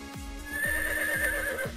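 A horse gives a loud, close whinny with rising and falling pitch, while repeated hoof clip-clops thud steadily underneath.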